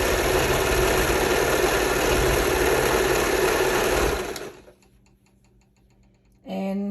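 A sewing machine stitches sublimated bodysuit fabric in a fast, steady whir for about four seconds, then stops, followed by quiet handling and a brief voice at the end.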